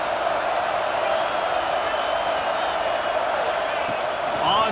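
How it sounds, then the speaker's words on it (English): Home crowd in the video game College Football 26 roaring in a steady, dense wash of cheering that stays loud and unbroken throughout, with a brief voice near the end. "how nice is it to have the home crowd going absolutely bananas?"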